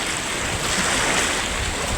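Surf at Kappad beach in Kozhikode, a steady broadband wash of breaking waves and wind rushing continuously at close range with no distinct voices.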